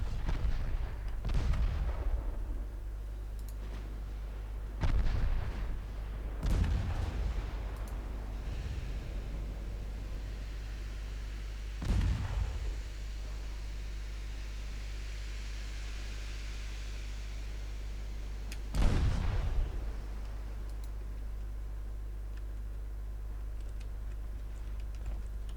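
Naval gunfire from 5-inch guns in the warship game Ultimate Admiral Dreadnoughts: several heavy booming shots spaced seconds apart over a steady low rumble of engine and sea noise.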